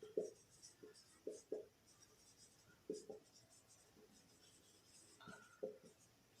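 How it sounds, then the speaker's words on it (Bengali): Chalk or marker strokes on a classroom board come in short, distinct scratches and taps spaced irregularly, close and moderately loud, with no talk over them. "আমি লিখে দিচ্ছি।"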